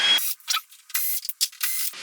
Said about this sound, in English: the next step is just to take off some screws that hold the base of the TV